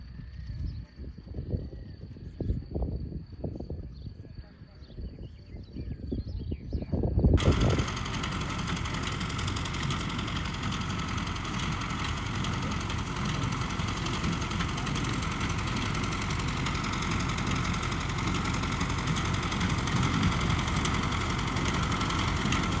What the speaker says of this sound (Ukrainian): На ходу трактор да, їде, Сережа регулює.